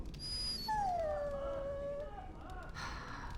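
Dog in the Dragon Age: Origins video game at Castle Highever giving a long, drawn-out whine that slides downward, preceded by a brief high squeak and followed by a soft huff, all fairly close and alone.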